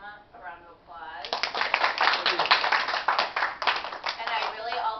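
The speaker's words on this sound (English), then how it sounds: "let's give Jim a round of applause" An audience applauds a speaker, brisk clapping that starts after a short stretch of talking and continues at a fairly close, moderate level, with a voice heard first.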